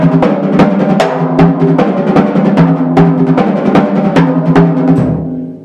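Drums playing a paradiddle rudiment, a continuous rolling stream of even strokes with accented hits recurring regularly, close and loud, no voices.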